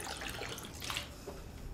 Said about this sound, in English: We're then going to top it up with just clear apple juice